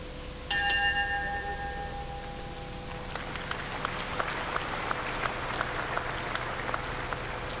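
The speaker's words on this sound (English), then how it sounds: "Right on the bell," A boxing ring bell clangs at the start of round 5 of a professional wrestling bout, a single bright ringing strike with a lingering tone, followed by patter-like crowd noise and scattered claps in the hall.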